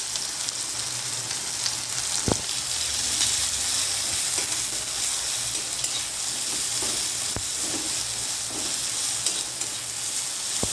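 Chopped onion frying in oil with panch phoron in a pan, a steady close sizzle broken by occasional sharp scrapes and clicks of a spatula as it is stirred.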